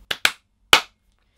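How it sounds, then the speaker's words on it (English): Three sharp hand claps ring out alone, two quick ones close together followed by a single louder clap after a brief pause. "Here comes the famous clap."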